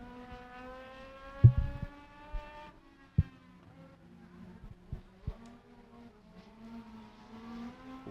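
A race car at Beckley Motor Speedway running a qualifying lap, its engine a distant, faint steady drone with harmonic tone holding over several seconds, broken by a few sharp knocks.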